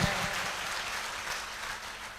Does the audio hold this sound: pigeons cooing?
no